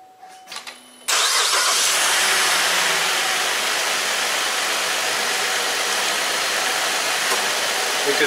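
A car engine cranks and catches after a brief pause, then settles into a steady, loud idle that continues without letup to the end.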